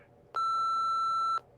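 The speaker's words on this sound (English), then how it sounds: "wait for the beep and leave us a message" A single answering machine beep from the Nancy Drew video game, one clean, sustained electronic tone lasting about a second after a short quiet lead-in, with no speech.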